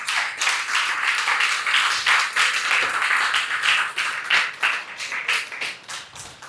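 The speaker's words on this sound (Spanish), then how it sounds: "¿Cuántos le regalan palmas al Señor?" Church congregation clapping during a sermon, loud and close, the claps bunching into irregular waves that swell and dip across the stretch with no talk over them.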